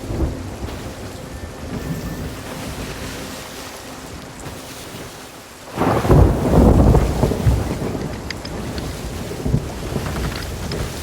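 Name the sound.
ship sailing through stormy waves and wind in Sea of Thieves video game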